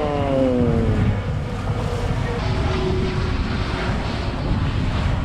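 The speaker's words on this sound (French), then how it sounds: "Et au-dessus, il y a les avions." Airplanes pass overhead near a boat anchorage, a broad rumbling roar with falling engine tones at the start, steady and moderately loud under wind.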